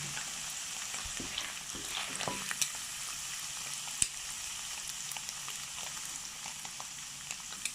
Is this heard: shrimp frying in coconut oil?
yes